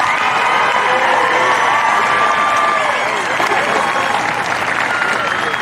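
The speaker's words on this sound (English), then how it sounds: "Let's give them a round of applause, please." A large audience at the Carter High 2025 graduation ceremony applauds steadily, a dense, loud wash of clapping with some cheering and crowd noise that holds throughout without letting up.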